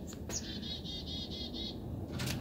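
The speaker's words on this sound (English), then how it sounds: "Can you guys hear those birds?" A quick run of high, evenly spaced bird chirps, about half a dozen, over a steady outdoor background hum.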